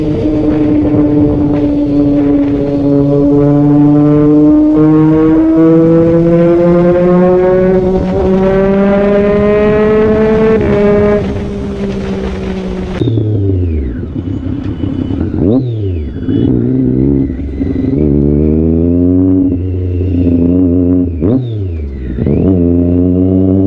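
Loud inline-three and inline-four motorcycle engines revving hard, pitch climbing steadily through a long pull, then repeated sharp throttle blips and rising whines from a different bike.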